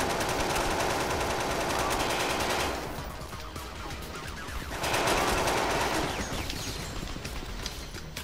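Rapid sustained gunfire in the shooter game MindJack, dense automatic bursts that pause briefly then resume, loud and continuous with no talk.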